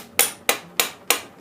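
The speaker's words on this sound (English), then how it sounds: "That's what you call an impact hammer." Four sharp, evenly spaced blows from an impact hammer ring out close by as it works on the cam bolts of a Honda VF750F motorcycle engine.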